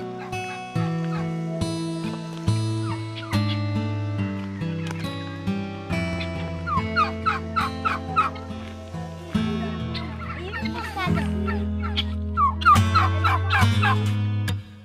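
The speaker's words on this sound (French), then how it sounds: "Vous avez retrouvé vos copains les dindons?" Turkeys on a farm in Albania gobble loudly and close by in rapid, warbling bursts that repeat again and again over a steady droning background.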